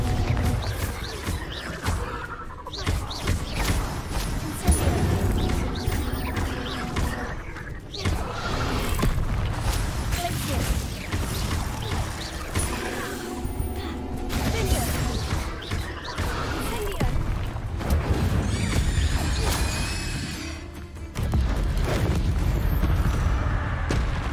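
Bombarda explosion spell in Hogwarts Legacy amid a spider fight, with booming crashes and impacts layered over continuous combat clatter and a speaking voice throughout.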